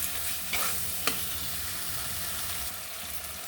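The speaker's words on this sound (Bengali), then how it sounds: "ভালো করে মশলাটাকে সুন্দর করে কষিয়ে নেব" Ground spice paste, stone-ground by hand, sautéed in a pan for a curd and pointed gourd curry: a steady sizzle with scraping stirs and a couple of sharp clinks near the start.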